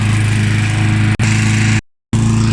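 A Mountfield M4 petrol lawn mower with a 3.5-horsepower engine runs close and loud with a steady buzzing drone. The sound breaks off briefly twice.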